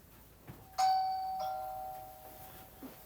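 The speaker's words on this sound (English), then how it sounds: "Okay, there's the doorbell." A two-tone doorbell chime rings out clearly, a bright ding followed by a lower dong that lingers and fades, with faint room noise around it.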